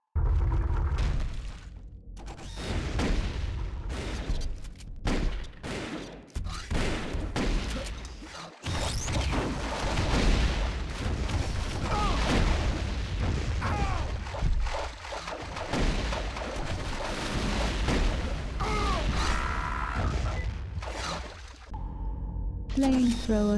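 Plasma grenade launcher explosions in a video game go off as repeated heavy booms and shattering blasts amid constant gunfire and chaotic battle noise, loud and dense, with talking over the top.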